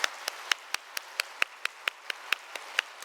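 Church audience clapping in unison for a drum performance team, about fourteen evenly spaced sharp claps in a steady rhythm, fairly faint in a quiet room.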